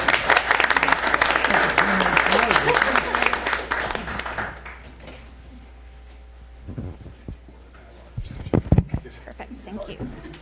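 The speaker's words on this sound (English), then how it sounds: "Give yourselves a round of applause" Attendees at a Capitola, California meeting break into loud, dense applause that fades after about four seconds, giving way to a quieter room with scattered sounds and a voice speaking.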